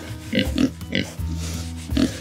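Idaho Pasture Pigs grunt close by in a winter pen, a handful of short low grunts in quick succession with a soft continuous snuffling between them.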